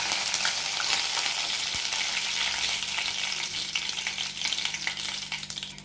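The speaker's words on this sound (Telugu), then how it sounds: "కరివేపాకు వేస్తున్నాను." Curry leaves hit hot oil already popping with mustard seeds, setting off a loud, dense, crackling sizzle that stays strong and steady throughout.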